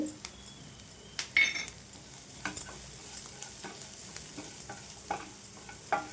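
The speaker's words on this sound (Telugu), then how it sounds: "ఇప్పుడు మనం వేసిన జీలకర్ర మెంతులు ఇవన్నీ కూడా బాగా ఫ్రై అయ్యేటట్టు మనమైతే కలిపేసుకుందాం" Cumin, fenugreek and turmeric fry in a pan while a utensil stirs them, giving a soft sizzle under repeated light scrapes and clinks of metal against the pan.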